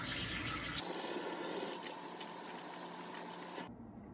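Tap water runs steadily while hands are washed under the faucet, a close and constant splashing hiss that cuts off abruptly just before the end.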